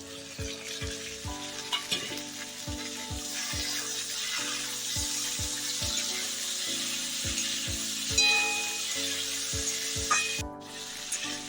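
Chopped tomatoes sizzle steadily in a pan while a regular tapping rhythm of spices being ground repeats underneath, with a brief sharp clatter near the end.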